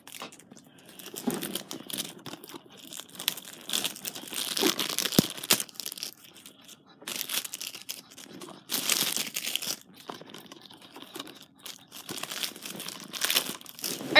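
Plastic wrap being peeled and crumpled off a Call of Duty Black Ops 3 Xbox One game case, with continuous close crinkling in uneven bursts.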